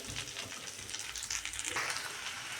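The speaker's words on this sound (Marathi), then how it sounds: "डाळ छान असं परतून घ्यायचं आहे" Soaked moong dal sautéing in a pan with a soft continuous sizzle and light stirring scrapes, close and fairly quiet, without anyone talking.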